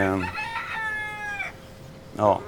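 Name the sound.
chickens clucking and rooster crowing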